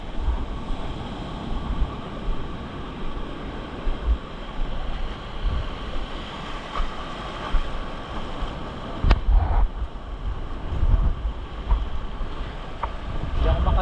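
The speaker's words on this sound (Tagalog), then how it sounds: "medyo malakas ang alon." Rough sea at El Nido, waves washing and churning steadily with heavy wind buffeting the microphone, a continuous rushing surf with no voices.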